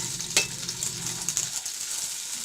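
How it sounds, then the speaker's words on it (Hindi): Onions sizzling in ghee in a pan, a steady frying hiss with a short stir or clink early on, at a moderate level with no talk. "प्याज डालें इसमें"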